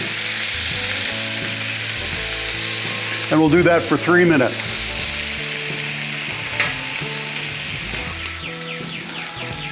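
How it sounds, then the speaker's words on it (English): Steak sizzles steadily on a hot Blackstone griddle with a continuous crackling hiss, while a person talks briefly partway through. "There we go, that'll get a nice sizzle."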